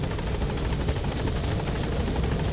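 Helicopter rotor noise from the Metal Gear Solid V: The Phantom Pain video game, a continuous loud thrumming with rapid blade chop and a heavy low rumble.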